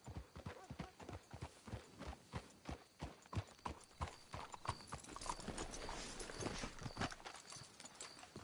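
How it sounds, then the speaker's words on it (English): Horse hooves clip-clop steadily at a walking pace in Red Dead Redemption 2, several horses moving together in a close, even rhythm that continues throughout, with a faint whinny. "Let's hitch the horses up ahead"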